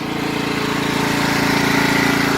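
A Craftsman 42-inch riding lawn mower in excellent condition runs steadily nearby, its engine giving a loud, even, throbbing drone with a fast regular pulse and no talk over it.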